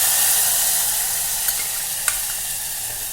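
A peanut and chili paste sizzles in a hot tempering, giving a steady hiss that stays fairly uniform, with two faint clicks as it is mixed.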